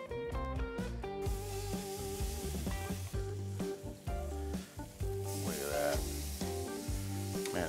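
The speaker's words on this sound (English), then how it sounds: "Let's go ahead and add our flanken style ribs and get them grilled up." Flanken style beef short ribs sizzle on a hot charcoal grill, a steady frying hiss running throughout beneath a loud bed of music, with brief scraping and rubbing touches.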